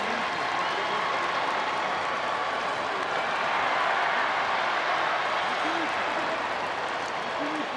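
Massive crowd at a night baseball game between the Braves and Angels, a steady broad roar of stadium noise with scattered cheering and clapping, continuous and fairly distant, with faint voices mixed in.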